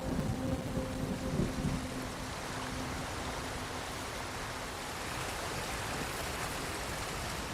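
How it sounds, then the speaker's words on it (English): A waterfall in the video game Ghost of Tsushima roars as a steady, dense wash of rushing water. Faint tonal game sounds are heard at the start. "Under the waterfall."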